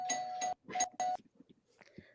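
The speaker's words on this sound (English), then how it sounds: "Somebody ringing a bell." A doorbell rings indoors, sounding as a few clear chimed tones in quick succession before fading into quiet, with a brief voice at the end.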